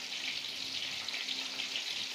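Tofu jeletot, spicy stuffed tofu, frying in hot oil, giving a steady close broadband sizzle that runs without a break and with no talk over it.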